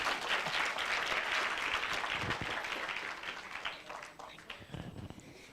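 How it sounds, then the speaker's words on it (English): A hall audience claps for matric top achievers called up to the stage at a social development honouring event, broad applause that is fairly distant and gradually tapers off. "Yeah, you can clap."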